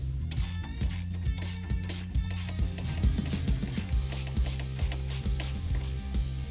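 A ratchet clicks in quick, close bursts while tightening the belt tensioner bolt on a Can-Am Spyder, its pawl ticking in uneven runs with brief pauses and no voices.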